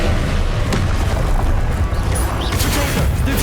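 Confringo fire spell exploding in the game Hogwarts Legacy, a loud, dense blast of booming and crackling combat noise that fills the whole moment with no voice over it.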